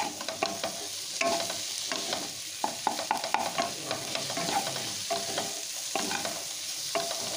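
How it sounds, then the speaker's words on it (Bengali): Mushrooms frying in a pan with potato and onion, stirred together: a steady close sizzle broken by repeated scraping stirs of the spatula, with no talking. "মাশরুমগুলো একটু আলু পেঁয়াজের সাথে ভেজে নিচ্ছি। সমস্ত উপকরণগুলো একসাথে নাড়াচাড়া করে একটু ভেজে নিচ্ছি।"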